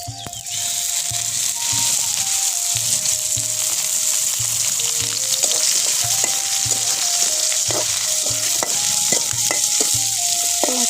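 Oil sizzles steadily in a pan as ingredients fry until reddish for a village-style bharta, with scraping stir strokes and clinks of a utensil throughout; faint background tones, no talking.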